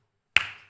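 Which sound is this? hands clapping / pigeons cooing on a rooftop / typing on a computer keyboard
hands clapping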